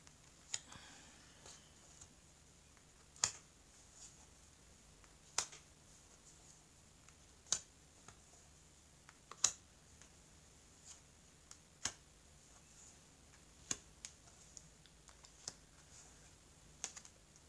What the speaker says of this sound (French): Donc j'étais en train d'étaler les cartes là.